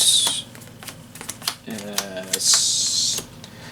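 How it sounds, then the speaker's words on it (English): A Yu-Gi-Oh card deck is shuffled by hand in two quick, crisp riffling bursts, close and fairly loud, with a person briefly talking between them. "So, shuffling up my deck, let's see what we got."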